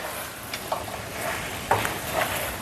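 Gobi manchurian stirred in a pan, with a steady soft sizzle and a few brief scraping clicks of a spoon against the pan over about two and a half seconds.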